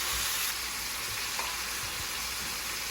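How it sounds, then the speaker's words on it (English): Ground beef sizzles steadily in a pan for lasagna, a dense, continuous frying hiss with a few soft spoon scrapes as the meat is broken up, no voices. "we're gonna start by cooking our ground beef"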